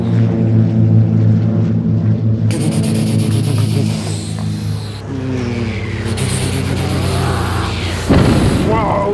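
A voice imitates a P-51 Mustang airplane engine during pretend play, producing loud, close, buzzing and rumbling engine noises with shifting pitch and bursts.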